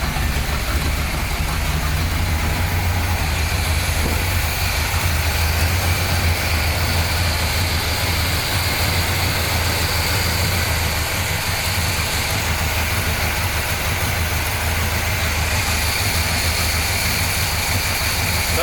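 A restored 1972 Corvette engine, long abandoned in a field and fitted with an imperfect carburetor, runs steadily with a loud, low, continuous rumble close by.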